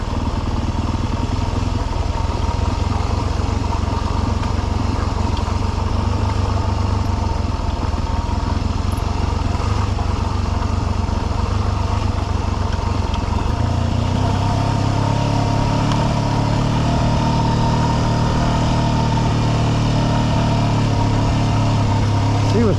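A dirt bike engine drones steadily throughout, dropping into a lower idling note partway through as the bike coasts downhill from Imogene Pass toward Telluride, Colorado, loud and close.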